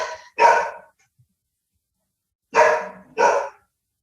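Three loud barks from dogs in a veterinary setting, one bark, a pause of about two seconds, then two quick barks close together, with silence between them.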